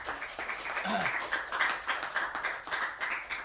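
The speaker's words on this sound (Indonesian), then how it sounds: "Tepuk tangan untuk Mbak Eka Cemengdu" Applause at an Indonesian art school show for Mbak Eka Cemengdu, light scattered clapping with a faint voice near the start, fairly soft and uneven throughout.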